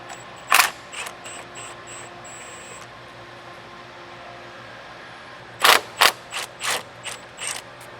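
Ratchet with a swivel socket turning bolts during a supercharger install on a Nissan 370Z: quick clicking pawl runs, a short burst early, then several louder clustered clicks near the end, close and with no speech.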